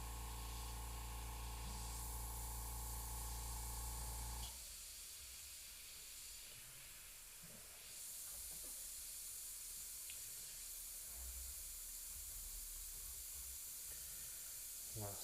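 Airbrush spraying paint onto a Cad Bane model, a faint airy hiss with a steady hum that cuts off after a few seconds, then quieter intermittent bursts and small handling noises.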